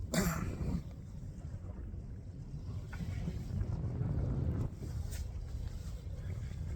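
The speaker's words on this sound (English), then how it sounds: "we got a pretty stiff east wind out here today" A stiff east wind buffets across open water on Oneida Lake, a steady, loud roar of wind noise with gusts that swell and ease throughout.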